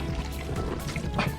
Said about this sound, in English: Just trying to get into the kayak.